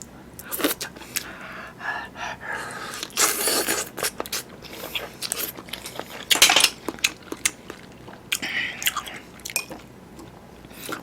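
Someone eats noodles and fish cake topped with wild chives in a mukbang, with close, wet chewing and slurping mixed with clinks and scrapes of utensils against a bowl.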